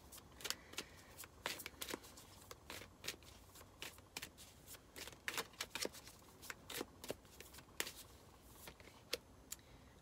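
Universe oracle cards being shuffled, giving quiet, irregular bursts of crisp riffling and flicking up close, with no talking.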